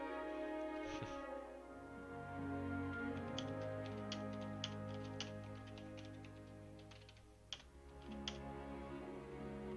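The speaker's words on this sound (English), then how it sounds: "Well, I'm typing to the group chat." Quiet, irregular clicking of keys on a computer keyboard during play of Hogwarts Legacy, scattered taps over a steady background hum with no talking.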